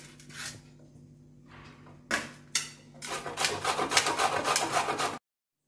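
Tapioca root rubbed against a grater makes rapid, rhythmic rasping strokes that grow louder and denser toward the end, close up, after a few quieter scrapes and knocks, then stop abruptly.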